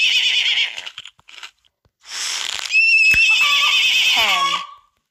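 A synthetic-sounding horse whinnies, a shrill neigh repeated in short bursts with clicks between, clear and close with no talking.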